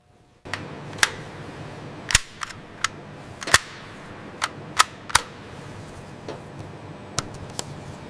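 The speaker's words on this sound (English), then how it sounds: "Here we measure the exact trigger pull using this specialized digital gauge." AK-47 trigger pull measured with a digital gauge in a rifle factory: a series of sharp, close metallic clicks spaced irregularly over a low, steady background hum.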